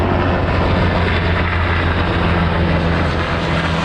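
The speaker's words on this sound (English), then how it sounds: "helicopter flyby, I don't know what that's about. It flew right up the river valley." A helicopter's steady, loud drone with low rotor rumble, continuous throughout as it flies overhead up a river valley, no voices.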